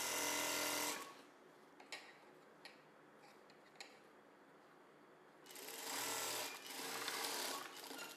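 Sewing machine stitching the side seam of a medium-size blouse: a short burst of fast rattling stitches, a pause filled with faint ticks and handling clicks, then another steady run of stitching near the end.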